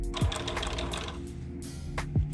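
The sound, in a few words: sewing machine stitching an Air Jordan 1 sneaker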